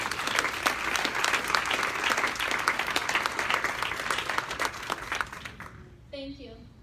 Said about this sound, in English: Please, a big round of applause for Kelly Trushon.